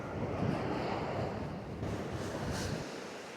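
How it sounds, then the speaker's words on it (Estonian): Strong wind buffets the microphone on an Estonian seashore during flounder fishing, a loud continuous roar with waves washing in beneath it, easing slightly near the end. "Tuul on tegelikult päris kõva."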